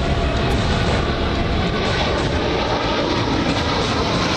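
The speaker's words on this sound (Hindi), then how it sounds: "चीन से सटी सीमा में सुनाई दी सुखोई की गर्जना।" A Sukhoi fighter jet roars loudly and continuously, a dense, rushing blast of engine noise that fills the whole moment with no voices.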